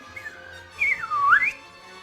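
A voice imitates R2-D2 from Star Wars with warbling electronic-style whistles, a couple of faint chirps then a louder swooping, rising-and-falling whistle phrase lasting under a second, alone with no talk.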